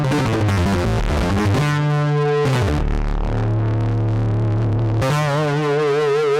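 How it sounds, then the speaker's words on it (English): A heavily distorted Juniper 8 software synthesizer plays sustained, buzzing tones that shift pitch in several sections, gritty and loud with a wobbling, effect-laden texture. "There's so much grindiness in the distortion."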